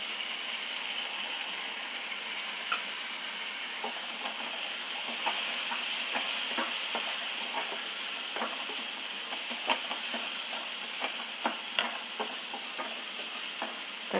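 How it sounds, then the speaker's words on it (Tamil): Tomatoes with turmeric cook in a pan, a steady soft sizzle and hiss with occasional light stirring taps throughout. "தக்காளி நல்லா மசிய வேகணும்"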